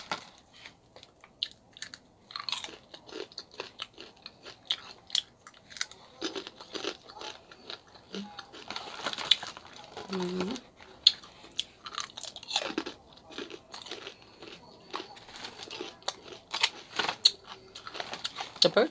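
Someone eats Crunch 'n Munch birthday cake flavored snack right at the mic, with loud, dense crunching and chewing that goes on steadily throughout.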